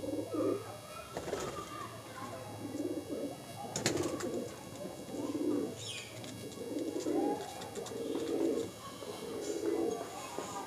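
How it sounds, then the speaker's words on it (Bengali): Soft, repeated coos of an owl-faced Andhra-breed pigeon in a steady rhythm, with faint chirps and background noise around them. "এই হচ্ছে একটা প্যাঁচামুখো পায়রা"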